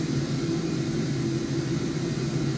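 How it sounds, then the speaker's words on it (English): An Alpha Jet engine drones steadily in flight, a continuous low rumble with a constant hum and no breaks, heard from inside the aircraft. "I love this little Alpha jet."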